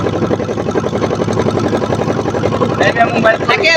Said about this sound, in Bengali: নৌকা শব্দের জন্য কথা বলা যাচ্ছে না